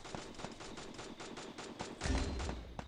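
M4 rifle fire in the mobile shooter game Free Fire, a quick string of faint, evenly spaced shots crackling in the distance with a slightly heavier burst at the end.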